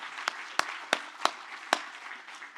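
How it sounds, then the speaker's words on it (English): A handful of sharp, separate claps ring out in a room, about five distinct hits spaced unevenly over a low background hum, fairly near and thin rather than a full ovation. "A round of applause as he leaves the room"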